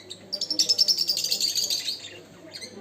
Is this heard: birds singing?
yes